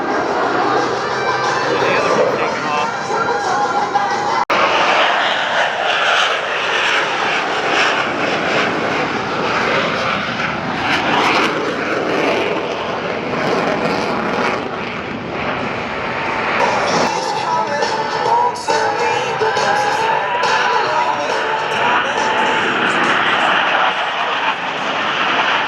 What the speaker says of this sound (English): Blue Angel number 6 executes a precise low transition and pitches up vertically